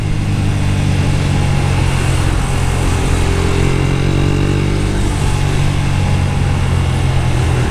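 A Yamaha YBR 125 motorcycle engine runs at full throttle, giving a loud, continuous droning buzz with constant wind rush while riding, no speech.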